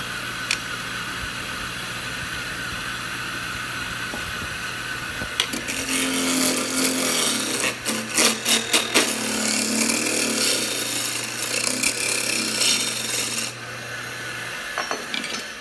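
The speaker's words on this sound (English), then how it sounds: "I love turning cedar." A cedar workpiece spins on a wood lathe with a steady hum, then a tool bites in with bursts of rough, scraping cutting noise over several seconds before fading back to the motor drone.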